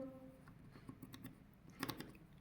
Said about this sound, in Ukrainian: І ножицями будемо відрізати рівненькі смужки